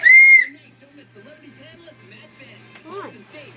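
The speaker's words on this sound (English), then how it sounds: "Stop tooting the whistle" A short, loud, shrill whistle toot at the start, followed by quiet scattered voices and light background sounds.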